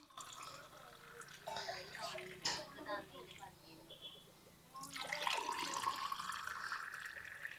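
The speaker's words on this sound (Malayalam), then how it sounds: "നമുക്കിനി ക്ലാസ്സിലേക്ക് ഒഴിച്ചു കൊടുക്കാം" Raw mango sambaram, a thin buttermilk drink, is poured into a glass with a soft trickling, gurgling flow that rises in pitch as the glass fills. A voice talks over the pour in a quiet setting.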